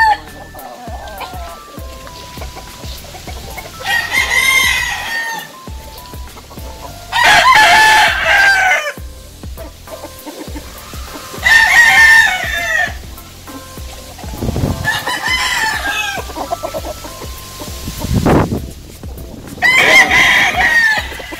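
A Perfection Roundhead yellow-legged stag with a straight comb, along with other backyard roosters, crows loudly again and again in long drawn-out calls spaced a few seconds apart, with clucking in between.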